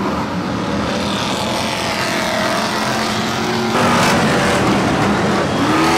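V8 stock cars race around a short oval track at Mildenhall, a loud, dense wall of engine roar that swells as the pack passes and holds continuous throughout, with no talk over it.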